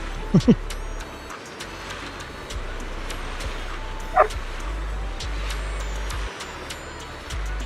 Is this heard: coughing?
no